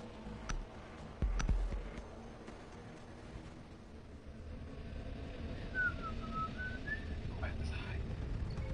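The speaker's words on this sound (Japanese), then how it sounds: "夜遅くに口笛は吹いてはいけなかった。" A faint whistled melody rises and falls near the middle, drifting over a noisy background with a couple of sharp knocks early on.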